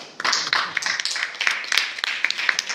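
Applause for the mothers at an ACLI sewing course gathering in Vizzini: a small group claps in quick, uneven bursts for a few seconds, fairly close, with faint voices murmuring underneath.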